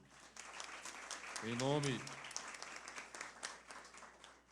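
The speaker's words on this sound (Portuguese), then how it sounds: "pedindo a salva de palmas a todas elas aqui" Faint, scattered clapping from a crowd at a Brazilian Ministry of Education event, with a voice briefly speaking over it partway through.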